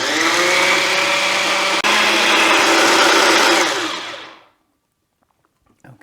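A blender blitzes chipotle aioli made with roasted garlic, a loud, steady whirring motor roar close up with one brief hitch, then spinning down and cutting out, leaving near silence and a faint clatter.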